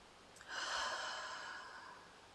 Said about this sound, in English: take a slow, deep breath